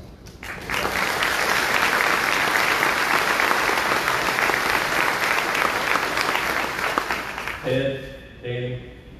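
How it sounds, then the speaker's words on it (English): Audience applause at the opening of a county career technical campus, a dense, sustained clapping from a sizable crowd that fades near the end, when a voice briefly speaks. "We'd like to give y'all a round of applause."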